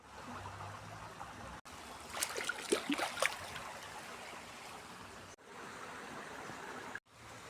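A small fast-flowing mountain river, swollen after heavy rain, gives off a steady, broad rushing of water that stays loud and even throughout, with no voices.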